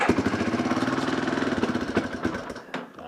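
A home-made snow plow's small engine runs with a steady, rapid putter that stays loud and close, then falters and cuts out with a couple of sputters near the end.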